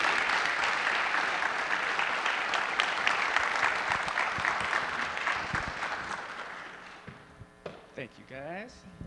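A conference audience at Google Cloud Next '19 applauds as speakers are called onto the stage, loud sustained clapping that gradually thins and fades out, followed by a few scattered thuds and brief voices near the end.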